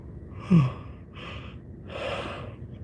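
A close, breathy yawn: a sharp intake of breath followed by long, drawn-out exhalations, with no talking.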